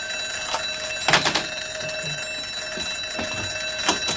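A continuous electronic burglar alarm rings steadily throughout, with a few brief knocks and clatters rising over it.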